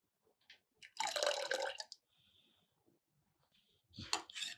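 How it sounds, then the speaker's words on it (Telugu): Water is added to ragi porridge, heard as close, intermittent splashing and pouring bursts separated by quiet gaps. "దీంట్లో కావాలంటే కొంచెం వాటర్ యాడ్ చేసుకోండి"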